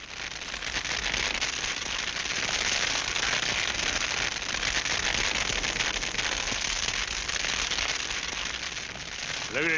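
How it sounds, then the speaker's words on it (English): Dense, steady crackling and hissing of a dry brush fire burning outdoors near a wagon, a continuous roar of small pops with no break, loud and close. "I don't want no fire around that wagon."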